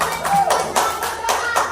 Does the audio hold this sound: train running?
no